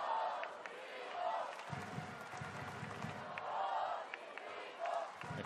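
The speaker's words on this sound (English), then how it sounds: "The crowd singing his name" A volleyball arena crowd chants a player's name in rising and falling waves, a steady rhythmic roar with a few louder swells, heard from a distance under commentary.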